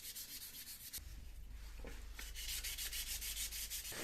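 A scooter's metal torque link rod is polished by hand, giving close, steady abrasive rubbing strokes that build slightly in loudness over a few seconds.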